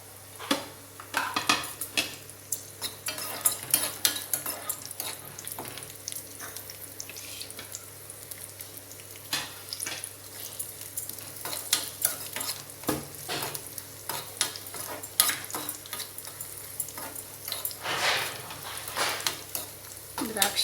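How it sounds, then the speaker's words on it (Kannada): Cashews and raisins fry and sizzle in a pan for pongal, with a steady crackle broken by repeated stirring scrapes and clinks of a utensil against the pan, close by and with no speech. "ಗೋಡಂಬಿ ಕೆಂಪಾಗಿದೆ ಈಗ ನಾನು ಈ ದ್ರಾಕ್ಷಿ ಹಾಕೋತಾ ಇದ್ದೀನಿ"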